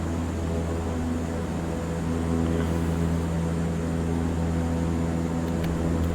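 Propeller engines of a CL-415 amphibious water bomber in MSFS2020 flight simulation droning steadily just after takeoff, a loud, unbroken hum with no pauses.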